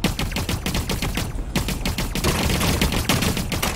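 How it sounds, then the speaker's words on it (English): Dense, loud automatic gunfire in the sci-fi shooter game The Cycle: Frontier, rapid overlapping bursts of shots with a short lull partway through. "he's shooting at something"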